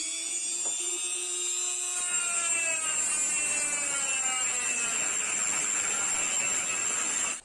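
An angle grinder fitted with a worn, unprocessed flap disc bites into a piece of metal, a loud high whine that shifts into a harsh, rising grinding screech once cutting starts, with no talking.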